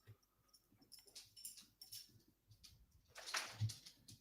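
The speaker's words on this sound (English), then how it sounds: "Is that your dog running around again?" A dog moving around indoors, with soft rhythmic paw taps and jingling tags or collar, faint and close-ish, ending in a brief louder rattle and thump; no speech.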